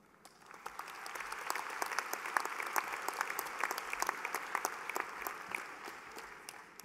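An audience applauds the newest graduates at a university convocation ceremony, a broad, sustained roar of many hands clapping that swells in and holds steady, with individual sharp claps popping out of the crowd.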